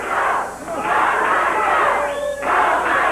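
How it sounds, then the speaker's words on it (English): Wrestling fans cheer and chant loudly in a 1996 pro wrestling arena, a dense roaring crowd that dips briefly and swells again over about three seconds. "Fans cheering, go, Ice, go, and Lawler just standing across the way"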